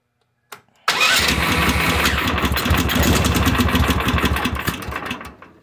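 A motorcycle engine cranks briefly, catches and roars to life, then settles into a loud, steady, close idle that rumbles on for several seconds before easing slightly at the end.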